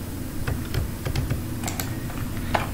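Computer keyboard keys are pressed while working in Microsoft Word 2016, giving a series of scattered sharp clicks at irregular intervals over a low steady background hum, close and moderately loud, with no talking.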